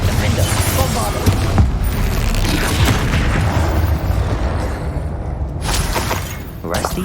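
Bombarda blasting spell exploding in the game Hogwarts Legacy, heavy booms and shattering crashes rolling through continuous loud combat noise, with voices calling out over it.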